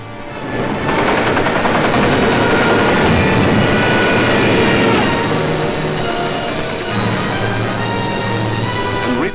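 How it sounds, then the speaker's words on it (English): A loud, continuous engine drone of wartime German bombers flying over London, dense and roaring throughout, with a rumbling low end that swells and slightly fades toward the end. "Some of the German bombers broke through London's defenses."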